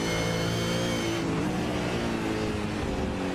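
A V8 race car in iRacing at Road America, the engine droning loudly at high revs and briefly dipping as it upshifts about a second in, then pulling on steadily.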